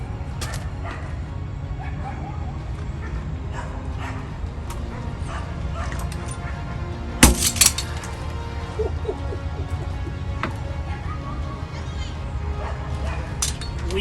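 Many dogs barking and yipping in a kennel or washing area, steady distant barks and whimpers with a sharp louder burst midway, over a low background hum.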